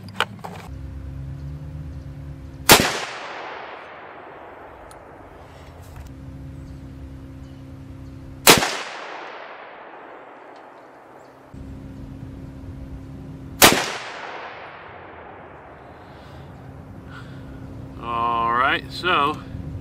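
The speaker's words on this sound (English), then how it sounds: "let's do another three shot group" Three loud, sharp rifle shots from a 35 Whelen firing Remington Core-Lokt ammunition, spaced several seconds apart, each ringing out and fading into a long echo, with a voice briefly heard near the end.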